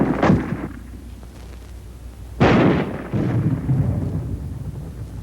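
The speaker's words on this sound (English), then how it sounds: "armor-piercing ammunition can smash through this kind of wall any time" Armor-piercing ammunition fired at a wall, two heavy booming reports about two seconds apart, each followed by a long rumbling decay and crumbling roar, loud and alone.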